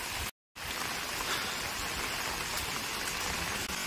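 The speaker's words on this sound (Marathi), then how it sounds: "तर पावसाने आता जोरदार हजेरी लावले." Heavy monsoon rain pours down in a Konkan village, a dense, even hiss of drops that runs steadily apart from a brief gap near the start.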